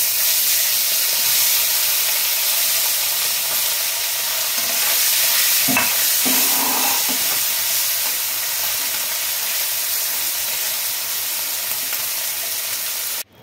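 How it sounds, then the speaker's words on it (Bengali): Tangra fish fry in hot oil with turmeric in a kadai, giving a loud, steady broadband sizzle and hiss that runs continuously, with a few brief stirring clinks in the middle and no talk. "এবারে আমি অর্ধেকটা মাছ ভেজে নেবো আগে।"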